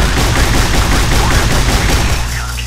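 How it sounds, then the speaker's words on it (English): A modded gun in Fallout New Vegas fires a loud, rapid automatic burst, shots pounding in close succession through nearly the whole span before easing off at the end. "Show you shooting down the iron sight."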